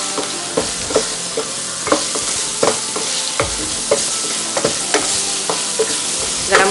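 Onions sautéing in a pan for vegetable biryani, with a bright, continuous close sizzle and a spatula scraping the pan in a steady rhythm roughly every half second.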